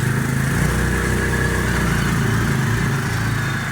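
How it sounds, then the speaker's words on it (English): A tractor engine idles steadily nearby, a constant low throbbing hum that stays even throughout. "There's my tractor, the one I actually use."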